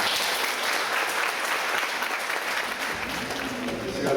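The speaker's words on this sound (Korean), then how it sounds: "축복하면서 격려의 박수" A church congregation applauds in encouragement during a Sunday worship service, a steady, even wash of clapping that fills the room for several seconds.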